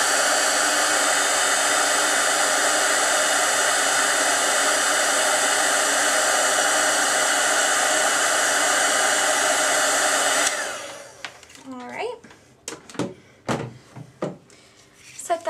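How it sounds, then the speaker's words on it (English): A heat tool blows steadily and loudly on a birthday embellishment on a cupcake scrapbook page for about ten seconds, a constant broadband rush that cuts off abruptly, followed by faint handling clicks and rustles. "we're going to take the heat tool and we're going to heat up the birthday"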